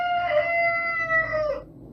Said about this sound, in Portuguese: ele ouviu um galo cantar a alto e bom som